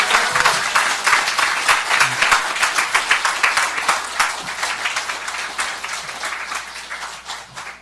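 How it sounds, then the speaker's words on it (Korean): Applause from a church audience welcoming a pastor to the stage, many hands clapping steadily and moderately near, gradually thinning over about eight seconds with no talk. "큰 격려의 박수 할렐루야로 이렇게 답해 주시면 고맙겠습니다"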